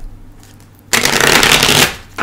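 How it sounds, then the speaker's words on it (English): A deck of tarot cards is shuffled close by: a brief quiet, then a loud, crisp riffling burst lasting about a second, ending with a light tap. "So let's shuffle that back in."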